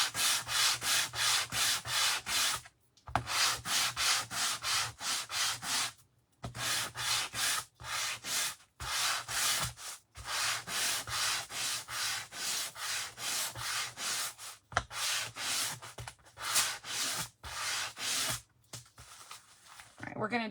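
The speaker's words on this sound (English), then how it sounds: "my rougher grit sandpaper is scratching it to make it look like wood grain" Rough-grit sandpaper scrubs lengthwise along wood for a farmhouse spindle bell craft, a close, loud rhythmic rasp of steady back-and-forth strokes broken by short pauses.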